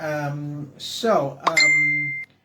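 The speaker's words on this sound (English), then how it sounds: "I just got to turn off my notification bell. See, I'm getting sounds coming through." A notification bell chimes from a device during a livestream, a bright ringing tone with a lingering overtone cutting in over ongoing speech, loud and close, sounding once near the middle before fading.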